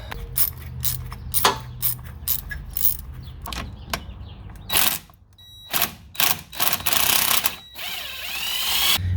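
A ratchet working an E10 Torx bolt on a SAAB B284 2.8T V6 intake pipe, giving bursts of close, sharp clicking with irregular pauses, some quieter rattles and a longer scraping stretch near the end.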